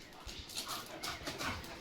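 A German Shepherd dog whimpers softly in short, faint bursts while resting in a cool spot at home after a walk, over steady background hiss.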